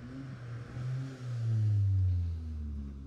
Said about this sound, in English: you can hear them going up the gears as they're coming down